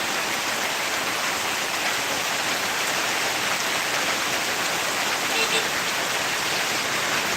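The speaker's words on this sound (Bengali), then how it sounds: "প্রচুর বৃষ্টি প্রচুর" A heavy downpour of rain roars in a steady, dense hiss, loud and unbroken for the whole stretch, with no pauses or letup.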